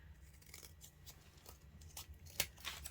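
Scissors trim a piece of chipboard for a handmade Valentine card, making a few quiet, close snipping and crisp cutting sounds, with one sharper cut near the end, in an otherwise hushed room.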